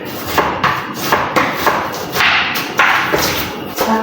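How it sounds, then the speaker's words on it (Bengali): A knife chops onion and cabbage on a cutting board while khichuri is cooked late at night in a shared kitchen in China. Loud, regular thuds come about twice a second, close up and with no voices. "এইদিকে আমি পেঁয়াজ কাটছি আর এদিকে আমার বান্ধবী সোমের প্রায় বাঁধাকপি কাটা শেষের দিকে"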